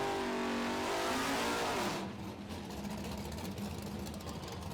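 Loud V8 engine of a 1969 Chevelle muscle car at an NMCA drag race, revving hard and hazing its tires at full throttle, then dropping to a lower, rough roar as the driver lifts off.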